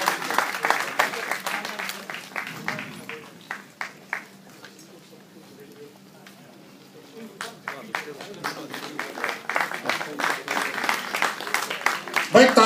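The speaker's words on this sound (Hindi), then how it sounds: "भाई तालियों में कंजूसी मत करो।" Applause from an audience at a welcome ceremony, with clear individual claps rising and falling, fading to a quieter stretch midway before building again, a voice speaking over parts of it.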